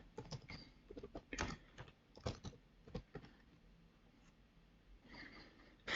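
Irregular bursts of keystrokes as a pip command is typed on a computer keyboard, quick close clicks in uneven clusters over quiet room tone.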